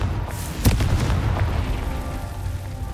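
A Confringo fire spell exploding in Hogwarts Legacy, a heavy booming burst with a sharp crack early on, followed by rumbling decay.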